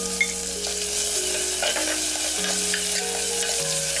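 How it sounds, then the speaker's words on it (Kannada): Tomato, capsicum and green chili sautéing in a spiced tempering for vegetable pulao, a steady loud sizzle with stirring scrapes, accompanied by background music with sustained tones. "ಹಸಿರು ಮೆಣಸನ್ನು ಕೂಡ ಒಗ್ಗರಣೆಯಲ್ಲಿ ಹಾಕಿಬಿಟ್ಟು ಸ್ವಲ್ಪ ಬಾಡಿಸ್ಕೊಳ್ಳೋಣ"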